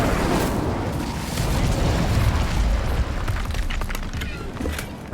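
A fire spell cast in Hogwarts Legacy, a loud sustained roaring burst of flame with crackling rumble, continuous for several seconds.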